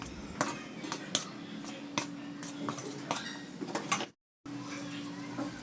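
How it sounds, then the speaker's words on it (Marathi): A spatula stirring jowar flour into boiling water in a pot, a series of close, sharp taps and scrapes in an uneven rhythm over a faint steady hum, with a brief dropout near the end. "यामध्ये उकळलेलं आता पाणी घालू आणि उलटण्यानं चांगलं हलवून घेऊ"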